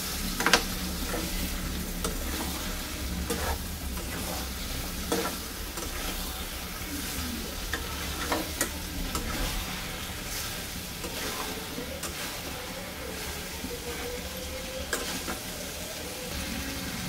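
A vegetarian curry sautés in a pan, its steady sizzle running the whole time under repeated scraping strokes of a spoon working the masala off the bottom, close and moderately loud.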